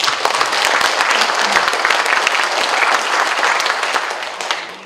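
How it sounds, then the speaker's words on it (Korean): At a political association's general meeting, a large audience breaks into loud, close, sustained clapping that holds steady for several seconds before easing slightly. "박수 좀 크게 한번"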